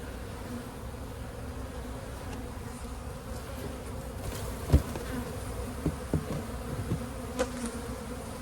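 Honeybees hum in a steady, dense drone close at hand around a hive, with a few louder buzzes as individual insects pass near.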